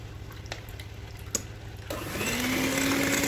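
An electric mixer whirs on waffle batter, at first quiet with scattered clicks and taps, then starting up and running louder and steadier as flour goes into the bowl.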